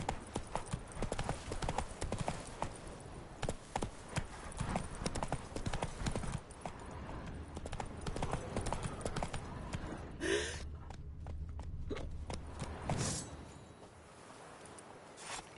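Horse hooves gallop in The Witcher 3, a steady rapid clip-clop rhythm running throughout at moderate loudness, with a brief rustle and a short whinny-like sound partway through.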